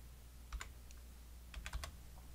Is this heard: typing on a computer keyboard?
yes